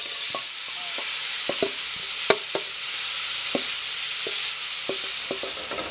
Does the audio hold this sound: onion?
yes